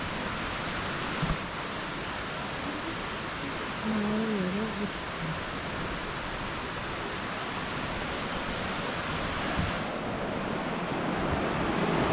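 A stream flowing near Samcheonsa temple in Jingwan-dong, Seoul: a constant broad rush of running water, fairly faint, with a brief murmur of a voice partway through.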